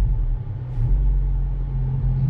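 Acura Integra Type S on a test drive, a steady low engine and road rumble from inside the cabin, no one speaking.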